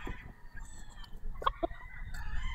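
Gamefowl broodcock roosters, about two years old, cluck in short bursts with a brief crow rising among them, heard fairly close against a low background hum on a farm.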